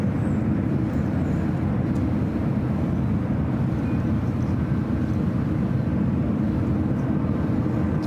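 United Boeing 787-9 Dreamliner taxiing out toward the runway at San Francisco: a steady, broad engine rumble and hiss holds at a constant level throughout, with no talking.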